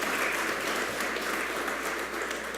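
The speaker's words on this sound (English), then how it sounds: "Please give her a round of applause." Audience applause at a mayor's sustainability awards ceremony, a steady, even wash of clapping from the crowd heard from a little distance, with no talk on top.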